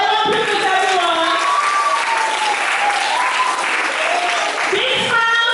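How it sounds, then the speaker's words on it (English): An audience at a school declamation contest applauds, with loud, sustained clapping filling the whole stretch while voices call out over it. "A round of applause for your own privilege"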